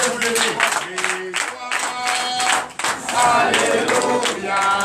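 A church congregation at morning prayer claps and cheers in praise, dense crowd applause and shouts rising over singing voices and music, loud and sustained across the whole stretch with a brief dip midway.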